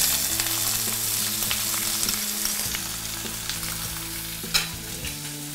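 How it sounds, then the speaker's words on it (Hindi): Green chili, curry leaves and onion frying in hot oil for poha, a loud, continuous close-up sizzle with a faint steady hum beneath and one sharper pop near the end. "तेल में डाल के हम इसको फ्राई कर लेंगे"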